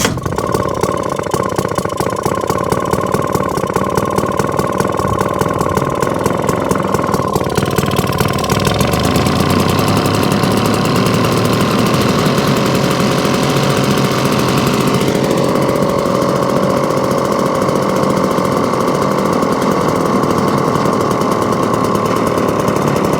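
A vintage 1954 Atco Villiers Midget kick-start lawn mower engine runs steadily with a close, loud, even mid-pitched drone and no talking, its tone shifting slightly partway through.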